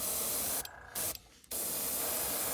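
An airbrush with a 0.2 needle sprays thin transparent paint onto a fishing lure, a steady close hiss broken by two brief pauses before resuming.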